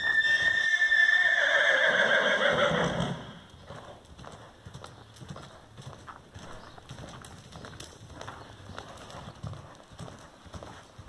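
A horse canters on a lunge line in an arena, hoofbeats drumming in a quick rhythm after a loud opening whinny-like call that fades out, the footfalls moderately close and fairly quiet.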